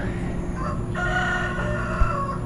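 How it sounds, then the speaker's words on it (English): A rooster crows in a long, drawn-out call over steady background noise, close by and fairly loud, at a hotel in Bacalar, Mexico. "having a conversation with the roosters"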